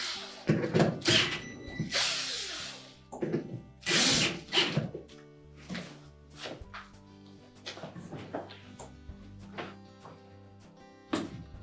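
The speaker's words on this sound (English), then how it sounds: "Once we have it straight, we'll go ahead and tighten those screws." A power drill drives door hinge screws in short loud whirring bursts with pauses between them, mixed with clicks and knocks from the hinge and tool.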